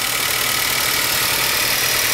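A clean car's engine idles steadily with the bonnet open, a continuous close mechanical hum and hiss running unbroken and fairly loud, with no talking over it.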